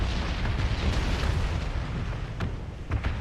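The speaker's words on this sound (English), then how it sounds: "Fucking mortars coming in on us" Mortar rounds exploding in PUBG, a continuous heavy rumbling roar of blasts with a few sharper pops near the end, loud and without talk.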